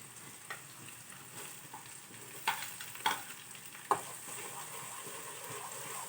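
Onions browning in a pan over a low gas flame give a soft, fairly faint sizzle, broken by a few sharp spatula taps and scrapes, with no one speaking.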